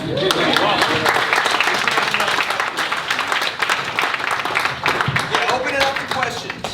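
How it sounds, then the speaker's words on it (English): Audience applause at the Free Play Florida 2016 arcade event, a loud sustained burst of many hands clapping with crowd voices and cheers mixed in, steady from start to finish. "So thank you for the applause."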